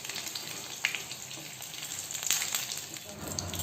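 Bottle gourd leaf fritters wrapped around lote fish sizzle steadily in hot oil, a close, continuous crackle with small pops throughout.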